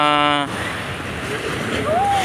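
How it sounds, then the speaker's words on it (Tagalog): Strong waves roll in at Dolomite Beach in a crowded seaside setting, a steady near wash of surf and wind noise after a brief tonal sound at the start, with a faint whistle-like tone late. "ang lakas po ng alon"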